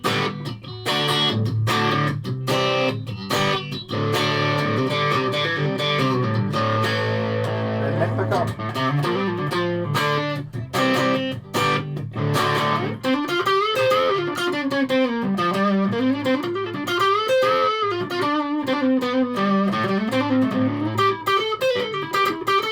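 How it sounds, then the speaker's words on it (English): Electric guitar played through a distortion effect with both pickups selected, giving loud, sustained, gritty chords that give way to bending, sliding lead notes. "I'm just keeping these on distortion just now"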